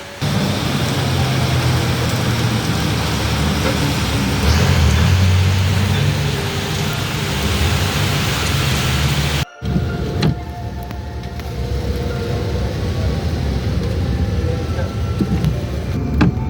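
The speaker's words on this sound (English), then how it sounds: "It is raining outside." Rain falls steadily outside, a dense continuous hiss that cuts off briefly partway through and returns a little softer, with no talk over it.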